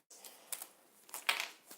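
Tarot cards being shuffled give faint, soft papery riffles and clicks in a few uneven bursts, close and quiet, with no talking.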